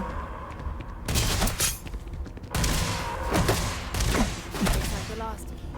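EM weapon fire from a Starfield battle against Terrormorphs: loud bursts of energy gunshots with thuds and booms, broken by short pauses, while voices shout over the fighting.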